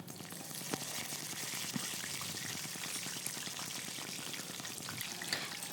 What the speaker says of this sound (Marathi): दोन तेजपत्ते इथं मी अशा पद्धतीने अर्धे अर्धे करून तेलामध्ये टाकून घेणार आहे कढीपत्ता टाकून घ्यायचा आहे